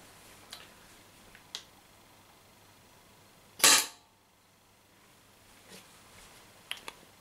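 A Tippmann TCR CO2-powered gun fires a single sharp, loud shot in the middle, with faint ticks and clicks scattered before and after in an otherwise quiet space.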